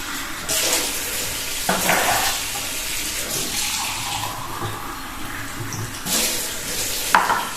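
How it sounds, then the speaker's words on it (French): Water pouring and splashing into small pots being prepared for sprouting avocado pits, a steady running flow with a few louder splashes near the start and end, no talking. "Je vais mettre un peu d'eau."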